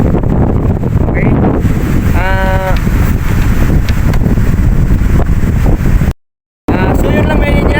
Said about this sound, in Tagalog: Dala pa rin ang hangin amihan, malakas ang alon.